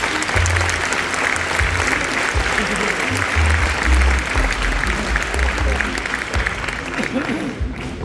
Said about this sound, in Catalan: Un fort aplaudiment per ell, sisplau